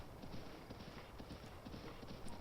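A horse's hooves clip-clop in a steady, quick rhythm in a Zelda video game, a dense run of even hoofbeats at moderate loudness with a faint background hiss.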